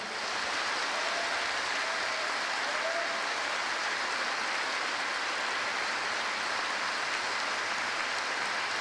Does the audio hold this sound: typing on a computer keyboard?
no